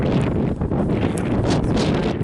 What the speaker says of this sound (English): even though it is a little windy and the wind is not perfectly set tonight